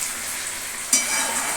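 Chili chicken simmering and bubbling in a pan, a steady close sizzle with a brief louder pop partway through, no voices.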